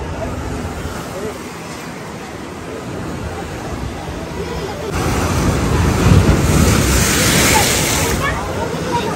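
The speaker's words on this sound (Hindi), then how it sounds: "बहुत तेज पानी उछाल माशाल्लाह।" Sea waves splashing strongly against the shore at Haji Ali Dargah in Mumbai, a loud rushing surge that swells in the second half, mixed with wind buffeting the microphone.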